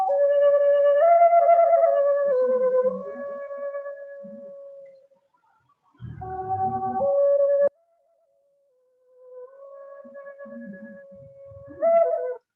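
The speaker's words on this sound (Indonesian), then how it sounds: "Yang pertama suara suling" Bamboo suling flute playing a breathy, whistling melody in several phrases separated by short silences, clear and close with no talking.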